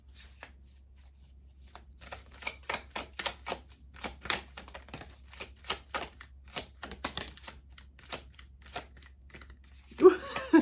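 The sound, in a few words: shuffling a deck of oracle cards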